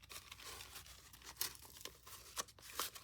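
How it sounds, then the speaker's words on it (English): A leftover paper packaging envelope being bent by hand, giving quiet, close crinkling and crackling rustles with a few sharper crunches, and no talk. "If I put that there and I bend the envelope,"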